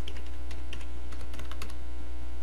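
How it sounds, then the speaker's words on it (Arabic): A password being typed on a computer keyboard, a quick irregular run of close, crisp key clicks over a constant low electrical hum. "نكتب المود الباس،"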